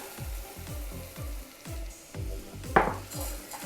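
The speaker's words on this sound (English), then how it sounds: "I'm going to stir this rice until it's nicely coated with that butter and olive oil" Rice toasts in butter and olive oil for risotto while a spoon scrapes the pan in steady strokes, roughly two or three per second, with a soft sizzle and one sharper clink near the end.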